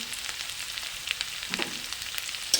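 Potatoes with chili powder and salt sautéing in a pan, a steady soft sizzle with light stirring scrapes and a few small clicks, close and fairly quiet, no voices.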